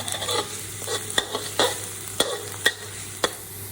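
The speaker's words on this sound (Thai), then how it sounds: "หลังจากนั้นเราจะใส่กระเทียมลงไปค่ะ เราจะเจียวให้กระเทียมหอมนะคะ" Garlic fries in hot oil in a pan, giving a soft, continuous sizzle broken by sharp, irregular spatula scrapes and taps as it is stirred, close and without talk.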